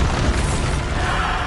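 Loud, dense burst of blast noise from the Bombarda spell exploding in Hogwarts Legacy, a continuous rumbling roar with low thumps that holds steady through the moment with no pause.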